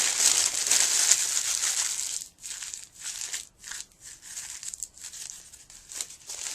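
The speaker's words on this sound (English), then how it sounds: "I'm going to wad the wax paper." Wax paper is wadded up by hand during a watercolor sketching session, giving a bright, crisp crinkling that runs steadily, then breaks into short separate crunches and rustles, close and fairly quiet.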